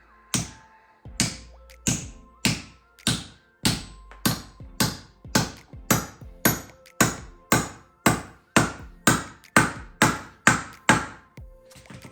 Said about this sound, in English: Then you hammer this handle all the way in.